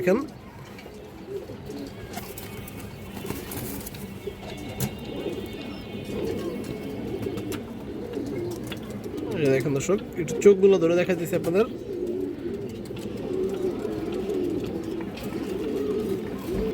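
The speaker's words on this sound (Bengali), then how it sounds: "পুরান ব্রাডের মুসলদম এগুলো" Musldom pigeons of an old breed coo in low, repeated rumbling calls throughout, with someone talking over them nearly the whole time.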